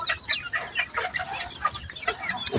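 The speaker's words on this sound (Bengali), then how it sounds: "এই 7টা মুরগি আজকে" Chickens on a rooftop farm cluck in a busy, overlapping chorus of short, nearby calls, with no speech.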